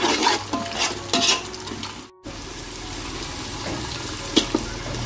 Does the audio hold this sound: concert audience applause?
no